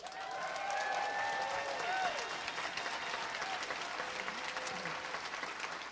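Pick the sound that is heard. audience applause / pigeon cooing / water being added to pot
audience applause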